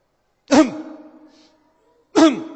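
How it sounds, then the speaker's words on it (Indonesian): Two short, forceful throat clearings about a second and a half apart, close and fairly loud, with silence between. "Gimana cara berdehem yang benar?"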